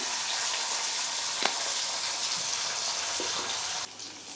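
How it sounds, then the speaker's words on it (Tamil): Shallots, garlic and asafoetida sauté in hot oil in a pan with a steady, close sizzle and crackle for several seconds. The sizzle dips abruptly near the end. "ஸோ பெருங்காயம் இதை நல்லா வதங்கட்டும்"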